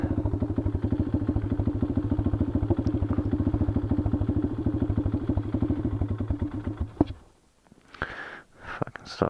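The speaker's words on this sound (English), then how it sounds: "This damn bike was just idle. It idles." A dirt bike engine idles nearby with a rapid, even thumping putter for about seven seconds, then cuts off, followed by brief rustling and clatter.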